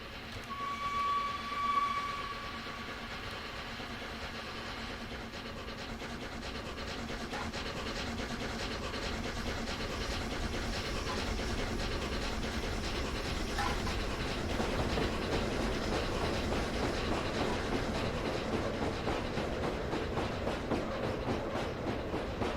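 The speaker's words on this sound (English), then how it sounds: "our B17 is coming out the tunnel very soon" A B17 steam locomotive in Train Sim World 2021 approaches from a tunnel, with a brief whistle early on, then a rumbling, clattering passage that builds steadily louder toward the end.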